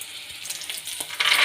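Mustard seeds in hot oil, a short crackling sizzle with scattered pops, growing louder at the end, close by and without talk.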